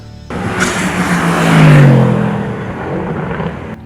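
A Mercedes-AMG GT R is driven on a race track. Its engine roars up close, climbs in pitch and then eases off over a few seconds.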